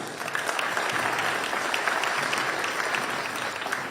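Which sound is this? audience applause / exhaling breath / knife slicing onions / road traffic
audience applause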